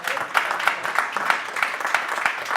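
Audience applause during a Talks at Google event, a steady run of fairly even, closely spaced claps at moderate loudness, with no talk over it.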